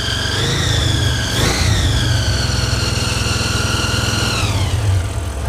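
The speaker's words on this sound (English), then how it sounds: "Idling kind of high." A blown, supercharged Jaguar rat rod engine idles at a fairly high, steady pitch, close and loud, with a brief rev partway through and a slight drop near the end.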